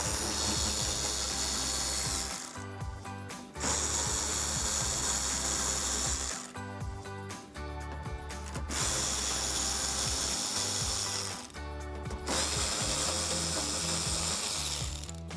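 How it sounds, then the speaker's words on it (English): Screws on the inner wheel well liner of a 2019-2024 RAM 1500 being removed with an 8mm socket on a ratchet, making loud, close, continuous clicking runs broken by a few brief pauses, with no speech. "I'm gonna use my 8mm socket to remove some of the screws here on the inner wheel well"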